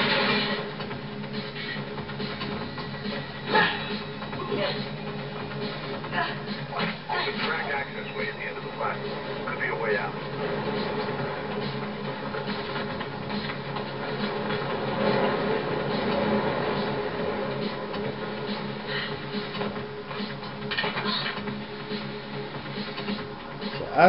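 A subway train rumbles steadily through a tunnel in the game Mirror's Edge, a continuous loud roar with rattling and clanking throughout.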